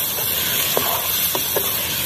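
Onion and tomato paste fry in a pan for a chole bhature dish, giving a loud steady hiss and sizzle with a few brief scraping stirs, heard alone.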